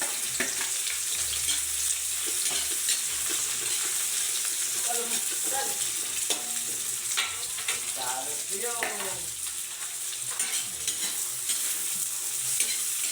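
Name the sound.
vegetables being sautéed in a pan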